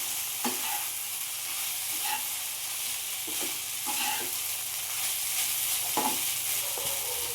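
Poha, flattened rice, is stirred in a hot frying pan, a constant soft sizzle with repeated scraping and tapping strokes of the spoon at an unhurried rhythm, close and moderately quiet, with no voices.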